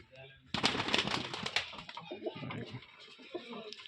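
Pigeons handled close by during a sale of running pairs, with a burst of wing flapping and scuffling followed by soft rustling, cooing and shuffling, all fairly near and moderately loud.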